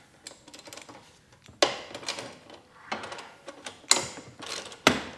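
A 10mm socket wrench undoing a part on a new Honda lawn mower, with intermittent ratcheting clicks and sharp metallic knocks in short bursts, close and fairly quiet.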